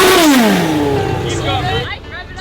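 A truck engine revs up and then winds down, its pitch sliding lower, loud and close with some background noise, at a truck meet.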